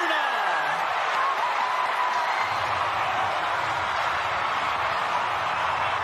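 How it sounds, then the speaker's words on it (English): A rugby crowd roars and applauds as the Fijian Drua women score a try, a dense, sustained wall of cheering that stays loud throughout, with a whistle-like tone rising early on. "Let the crowd tell the story yet again."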